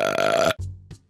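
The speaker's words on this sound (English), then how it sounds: "a loud burp echoed up from the nearby wombat burrow" A loud, drawn-out cartoon burp from a wombat in an animated story, a low croaking belch rising from a burrow that cuts off abruptly, followed by two short, softer gulping grunts.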